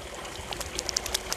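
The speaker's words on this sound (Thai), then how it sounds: "น้ำตกเห็นไหมคะสายน้ำมาแล้ว" Water trickles and splashes in a small garden waterfall, a faint continuous flow with brief bright drips and splashes scattered through it, and no talk.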